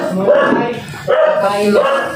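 Close, loud dog barks come in two or three bursts with whimpering yips, while people talk nearby.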